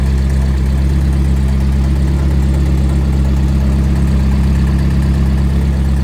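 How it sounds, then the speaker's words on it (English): A small car engine idles steadily, freshly fitted with a new cam belt, water pump, plugs, radiator and fan belt yet still smoking; a continuous low, even rumble with constant vibration, close and loud throughout, no voices. "What tiny little engine."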